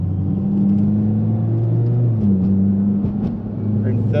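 A Mitsubishi Evo X MR or Ralliart with SST transmission pulls hard in second gear, its engine drone steady and loud from start to finish, rising gently in pitch as it accelerates, with a voice talking over it.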